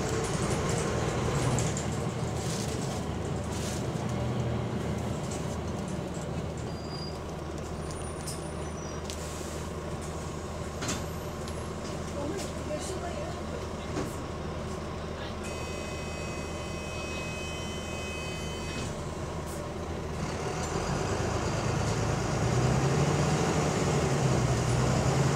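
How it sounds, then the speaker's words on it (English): An Enviro 400 bus with a ZF Ecolife gearbox runs on route 486, its engine droning steadily from inside, the tone shifting through gear changes with a rise in engine note near the end and faint clicks and rattles. "It was kind of sounded like an Enviro 400 there, the way it was shifting there."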